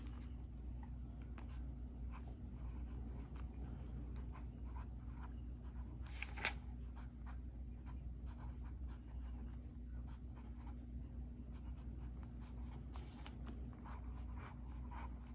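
A broad-nib TWSBI Iris fountain pen writes on paper with faint, soft scratching strokes over a low steady hum, close and quiet throughout with no talking.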